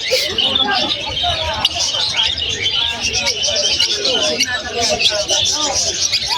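Zebra finches with yellow beaks chirp busily, a dense overlapping chatter of high tweets mixed with other birds, with people talking in the background throughout.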